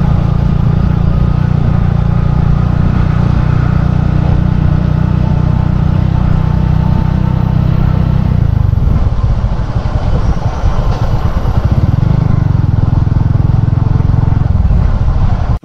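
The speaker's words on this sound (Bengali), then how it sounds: "আমরা বাইক নিয়ে যাচ্ছি" A motorbike being ridden through the Rema-Kalenga wildlife sanctuary in Bangladesh, with a close, steady engine drone and wind rush that dips briefly midway before returning to a strong hum.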